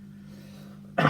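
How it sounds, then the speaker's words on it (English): A single chesty cough bursts out loudly near the end, following a quiet stretch with a low steady hum. "It's a chesty cough, don't panic."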